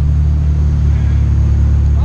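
Car engine, a Honda Civic LXL, idling loud and close as a steady low rumbling drone with strong harmonic hum, with no clear rev rise.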